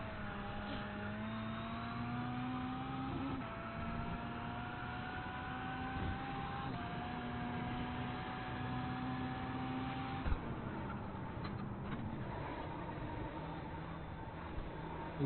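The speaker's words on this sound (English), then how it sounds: "Throttled through the power slide." A race car in a racing game holds throttle through a power slide, its engine note droning steadily with slight pitch shifts and a brief tire or impact tick near the end, no voices.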